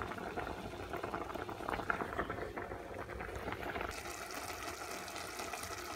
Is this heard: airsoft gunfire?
no